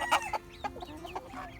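Silkie chickens on a farm give soft, low clucks and short calls, faint and close, in a quiet outdoor setting.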